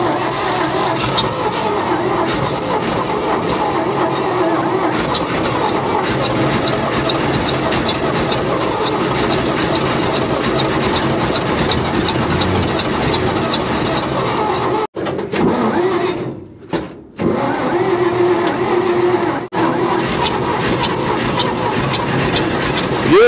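A 1949 Dodge pickup long abandoned in the desert, low on compression, cranks and sputters on its starter, running rough and loud up close with brief dropouts near the end.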